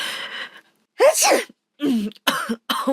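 A woman sick with flu-like symptoms sneezes and coughs in a quick series of loud, close bursts separated by short silences.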